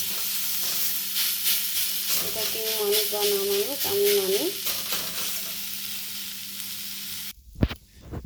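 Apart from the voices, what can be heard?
drumstick leaves frying in a pan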